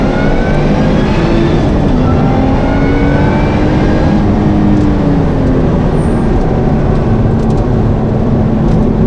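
A Lotus Exige V6 accelerates around the Charade circuit, its engine note climbing in steady, loud, close pitch sweeps that fill the whole stretch, with no talk over it.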